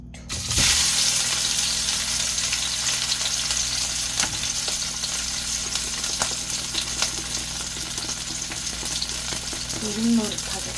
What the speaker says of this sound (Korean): 노릇노릇하게 구워줄 거예요.